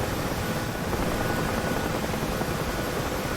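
Steady, continuous rotor drone of a helicopter in a festive video game rescue mission, loud and unbroken throughout with a dense low-frequency chop and broadband whine, no voices over it.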